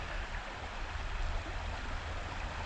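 Water flows steadily in icy Bushkill Creek at Jacobsburg State Park, a continuous moderate rushing and gurgling heard from nearby, with no voices.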